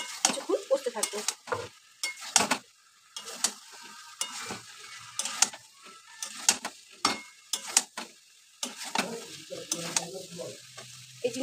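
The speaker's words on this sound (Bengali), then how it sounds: "দিয়ে এটাকে একটু ঢেকে ঢেকে কিছুক্ষণ কষতে থাকবো।" Fried cauliflower and potato are stirred in sizzling masala in a pan, with repeated sharp scrapes and clatters in an uneven rhythm over a steady frying hiss.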